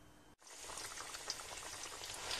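Camembert hits a frying pan after a brief silent break, then a steady, close hiss and fine bubbling crackle continues for the rest of the clip.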